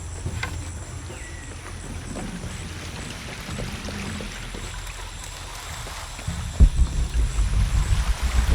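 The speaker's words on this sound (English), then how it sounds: "If we push the wheel, the counterweight will fill with water." Water pouring and gushing into a counterweight in Shadow of the Tomb Raider, a steady rushing flow over a low rumble that swells louder near the end.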